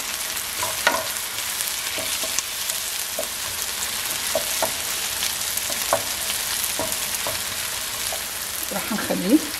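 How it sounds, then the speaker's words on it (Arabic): Garlic and onion sizzle in a pan with a steady frying hiss, punctuated by occasional utensil taps and a brief stir near the end, close and even. "هسه راح أخلي الثوم ونحمس الثوم والبصل دقيقة لوك."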